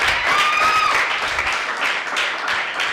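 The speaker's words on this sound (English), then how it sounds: "Give both schools a resounding clap." An audience at a secondary school debate breaks into dense, steady clapping for both schools, loud and close, fading slightly toward the end with a few whistle-like tones early on.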